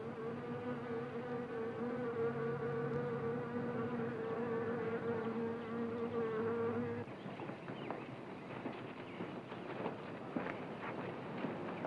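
Wasps buzz in a steady droning hum for several seconds, then the tone breaks into scattered rustling and clicking buzz, close and continuous, with no talk.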